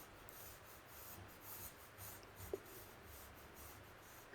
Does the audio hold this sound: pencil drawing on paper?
yes